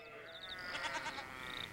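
A sheep sound effect used as a transition gives one long, wavering bleat that swells slightly in the middle, heard alone and fairly close.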